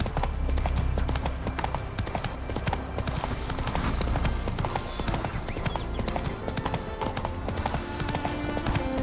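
Horse hooves clip-clop at a steady trot in The Witcher 3, loud and close over a dense game soundscape, with a voice speaking briefly.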